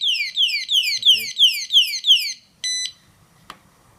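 A smartphone security display stand in a retail setting sounds a series of fast descending electronic chirps, six in a row, followed by a short steady beep and a faint click, close and clear.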